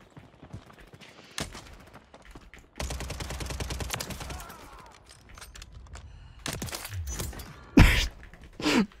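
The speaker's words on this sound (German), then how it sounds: "Wer schießt auf mich?" Gunfire in the shooter game Warzone 3, including a sniper rifle, sounds as a dense rattling burst and then several sharp cracks. A loud close shot lands near the end over quieter game noise.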